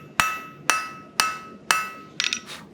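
Four loud, ringing hammer blows land on hot, thick metal being forged at an anvil, evenly spaced, followed by a quick cluster of lighter bouncing taps, close up with no talking.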